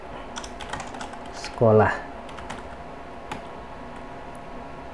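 Tab and Enter are tapped on a computer keyboard while a Microsoft Word document is being formatted, sounding as light, scattered key clicks at close range, with a brief spoken word partway through.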